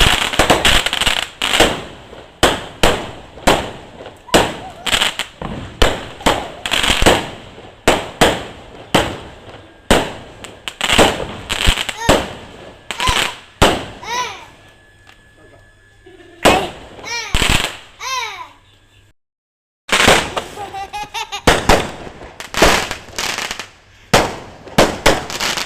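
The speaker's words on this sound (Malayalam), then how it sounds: "ഇവിടെ പെരുന്നാൾ ആഘോഷിക്കുക പടക്കം പൊട്ടിച്ചാട്ടോ." Strings of firecrackers pop outdoors during Eid festivities in Oman, a long run of loud, close, irregular bangs and crackles broken by a brief quiet gap before the bursts resume.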